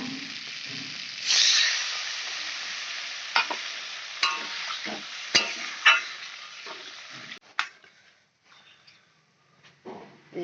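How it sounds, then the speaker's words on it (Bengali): Curry is sautéed with a spatula in a frying pan. A soft hiss of frying runs under repeated scraping stirring strokes, close by and irregular, and fades to quieter sizzling near the end. "ওলটা দিয়ে ভালো করে এখন কষি নিই"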